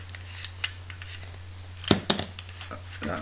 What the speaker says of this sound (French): Là c'est l'axe qui est tombé